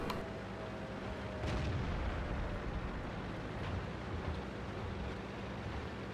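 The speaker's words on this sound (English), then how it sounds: "he just shot an HE shell at you" HE shell fired in a video game, a heavy booming blast followed by a rumbling, noisy wash that lingers at steady loudness.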